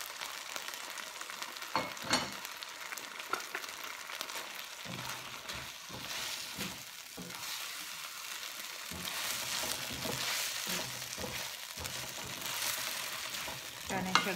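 Marinated chicken breast fries in a pan under repeated stirring, a dense sizzle with sharp scraping and clattering strokes that builds toward the end, close and without talk.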